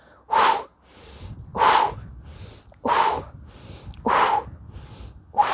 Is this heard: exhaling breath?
yes